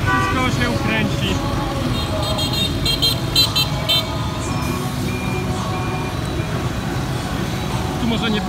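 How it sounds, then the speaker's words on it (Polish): Car horns toot in short repeated bursts amid dense Hanoi street traffic, with a constant engine roar underneath and the honking clustered early before the steady traffic din carries on. "Wjeżdżają sobie pod koła, trąbią, żeby powiedzieć, że tu są."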